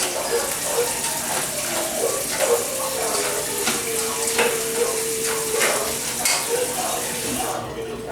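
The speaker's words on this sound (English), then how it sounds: "I like to put some hot water in it to mix it all up." Hot water poured into a bowl of puppy food mixed with Fortiflora, a steady close splashing and trickling stream with faint stirring clatter, running continuously before stopping abruptly near the end.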